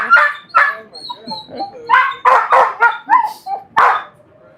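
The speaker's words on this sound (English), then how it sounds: "We're just watching the dog." A dog barks and yips close by in short, loud, repeated bursts, with soft whimpering between the barks and no talking.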